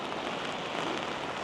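Heavy monsoon rain drums steadily on an umbrella during a walk in Innisfail, Australia, a dense, even, close hiss with no pauses or voices.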